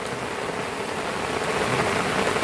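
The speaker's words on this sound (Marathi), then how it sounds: "पाऊस इतका मुसळधार आहे" Heavy monsoon rain pours steadily over ripe rice paddy fields ready for harvest in Kuvegaon, Lanja, a dense unbroken hiss of drops at constant loudness with no voices.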